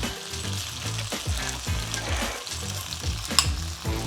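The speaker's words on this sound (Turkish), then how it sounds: "karıştırıyorum bir taraftan" Food is stirred in a sizzling pan, a soft continuous fry with rhythmic scraping strokes and a brief sharp clink near the end.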